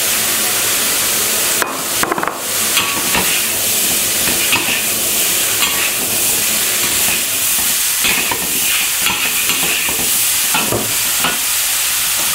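Blanched vegetables and capsicum sizzle hard in a hot wok, a continuous bright hiss broken by sharp clacks and scrapes of the spatula tossing them.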